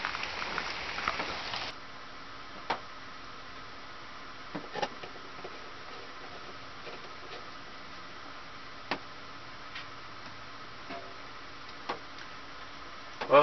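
Rain falls outside a house, heard from indoors as a faint, steady patter with sparse louder drips ticking at irregular intervals.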